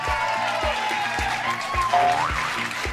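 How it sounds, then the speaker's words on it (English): An audience claps in a short burst of applause, steady and fairly close, with a bright tone sliding over it near the end. "Let's give a huge round of applause"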